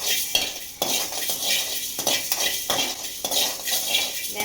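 Whole spices dry roasted in a pan for a fish fry masala, stirred constantly with a utensil, giving a loud continuous rattling scrape with rhythmic bursts as the spoon sweeps across the pan, close up and without talking.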